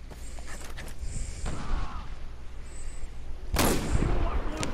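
Gunfire from a trick shot in the video game Far Cry 4 sounds as a sharp, loud burst near the end, with a few fainter popping shots and rumble before it.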